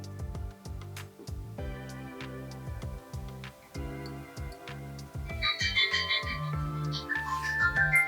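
A phone ringtone plays a repeating melodic chime pattern at moderate volume, and the phrase loops several times with no talking over it.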